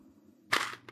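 A weapon reload in a C++ Unreal Engine zombie shooter game: a quiet hum, then a sharp mechanical clack with a short rattle, followed by a smaller click just under a second in.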